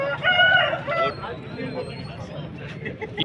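A rooster crows at a busy cockerel market in Vijayawada, one drawn-out call rising over steady crowd babble and nearby talk.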